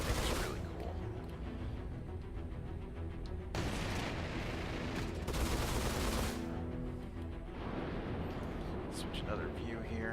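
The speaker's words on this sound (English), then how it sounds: "The guns are fully articulated. Even spewing ammo out the side." Articulated spaceship guns firing in Star Citizen, several bursts of rapid shots a few seconds long separated by quieter engine hum, with a voice speaking in the background.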